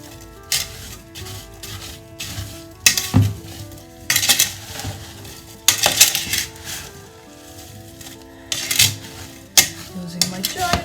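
A giant spoon stirs a pot of fruit chutney: repeated scraping, clanking and sloshing strokes against the pot in irregular bursts, fairly close, with no talk.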